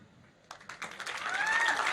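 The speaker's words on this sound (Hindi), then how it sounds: "तालियों के साथ स्वागत होना चाहिए" A short burst of audience applause at an alumni function rises from a few scattered claps into steady clapping, moderately near and fairly quiet.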